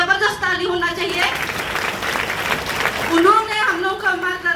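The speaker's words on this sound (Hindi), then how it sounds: "धर्मशील सर के लिए जबरदस्त ताली होना चाहिए" Applause from an audience at a DXN gathering, a steady wash of clapping running the whole time, with someone speaking loudly over it at the start and end.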